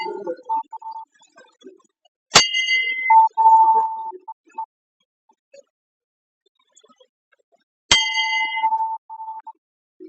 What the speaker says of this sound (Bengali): এবার এই ঘন্টাটা বাজানো বাকি রয়েছে